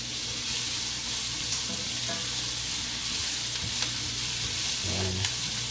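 Onions caramelizing in a pan with butter and oil give a steady, close, continuous sizzle and crackle, with light stirring scrapes partway through and no voices.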